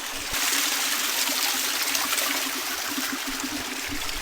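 A stream of cold water flows and trickles steadily nearby, a broad continuous rushing hiss with no voices over it.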